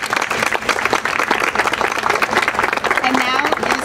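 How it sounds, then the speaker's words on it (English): An audience at a Philadelphia preparedness proclamation event gives families a round of applause, a dense continuous clapping throughout, with voices and cheers mixed into it. "Please join me in giving a big round of applause to those families"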